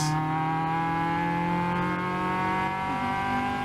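A Caterham race car engine holds a steady high-revving drone on throttle during a circuit race, loud and close, with rich even harmonics and a slight pitch wobble, no talk.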